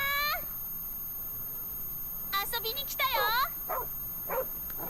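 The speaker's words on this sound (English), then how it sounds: "Cute dog." Dog barking in Tekken 8, a few quick yelping barks in a short cluster followed by a couple of fainter yips, with a voice speaking just before.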